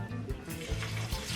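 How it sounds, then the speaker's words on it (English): Bammy, a Jamaican cassava flatbread, lowered into hot oil for deep frying, giving a steady bubbling sizzle with soft crackles and a few faint knocks, close by and loud with no voices. "I'm gonna use my spatula and I'm gonna be putting down into the oil the Bammy."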